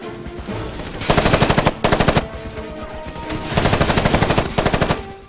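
Rapid automatic gunfire in the video game Ghost Recon Advanced Warfighter: loud, close bursts of evenly spaced shots, several bursts separated by short pauses.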